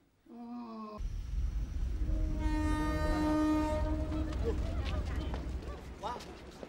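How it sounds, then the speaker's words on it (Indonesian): A train pulls in with a long sustained horn blast over rumbling wheels and rail noise, loud and close, while people talk over it. "mana kereta dateng lagi"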